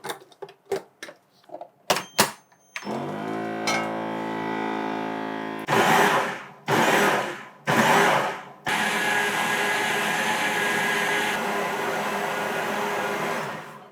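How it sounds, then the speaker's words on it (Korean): A kitchen blender grinds boiled black soybeans with their skins on. After a series of short clicks and pulses, the motor roars loudly in long whirring bursts with brief pauses, then runs continuously to the end. "근데 요즘 믹서기가 좋아서 껍질째 갈리는 거야."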